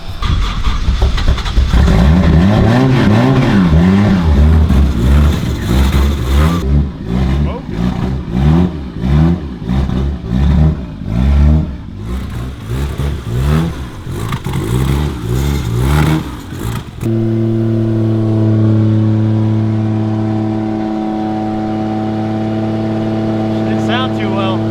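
A Rocket Bunny FRS drift car that has sat unused for a long time cranks and revs roughly at a gas station, loud, uneven pulsing engine bursts that settle into a steadier idle, with people talking over it.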